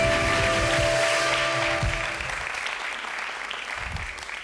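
A studio audience on a Turkish television show applauds, a loud, dense burst of clapping over a sustained musical tone that gradually fades and thins into scattered claps.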